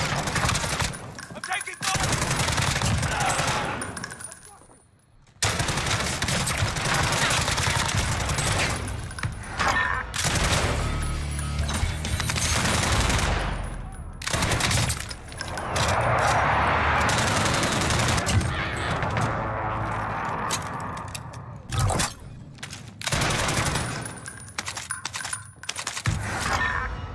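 Heavy gunfire in the Call of Duty: Modern Warfare Warzone video game, with dense bursts of rifle and machine-gun shots that run almost continuously for nearly half a minute, loud and close, with a few short gaps.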